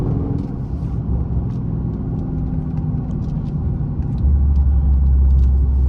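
Dodge Charger Daytona 392 cruising on back roads, a continuous loud engine rumble and road roar heard from inside the car, swelling into a deeper, heavier growl over the final seconds.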